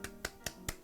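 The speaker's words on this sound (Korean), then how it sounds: "일단 박수." Four sharp, evenly spaced claps, close and fairly quiet, in a quiet apartment with no voices.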